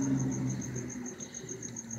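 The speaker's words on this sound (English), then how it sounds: "Look at those fat-ass fucking crickets." Crickets chirp in a steady, rapid pulsing rhythm over a low background rumble, fairly faint and without talk.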